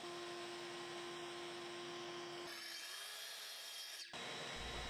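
A track saw on a track trims excess material off a wood piece for a modern desk, a steady high whine of motor and blade that shifts pitch as it cuts, then stops abruptly, close and loud.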